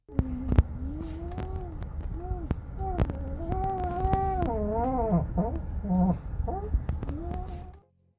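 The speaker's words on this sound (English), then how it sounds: "this customer said it sounds like they have a husky under their hood." A vehicle's engine bay gives off a husky-like howling noise: loud, warbling, voice-like wails and yelps that slide up and down in pitch throughout, over a steady low rumble.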